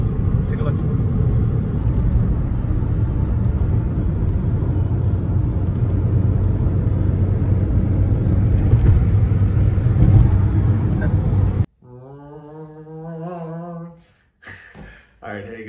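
Inside a car on a coastal road near Half Moon Bay, California, a loud, steady road and engine rumble drones for several seconds before cutting out. Someone then talks over a quieter background.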